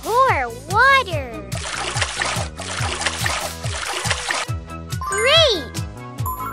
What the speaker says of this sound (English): Pour water.